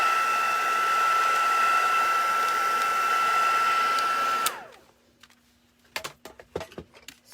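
A handheld heat tool blasts hot air over a card background with a steady whirring roar and a high whine, then switches off abruptly and is followed by a few light clicks and taps.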